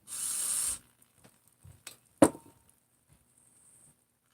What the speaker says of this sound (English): Let's put a little bit of brake cleaner here.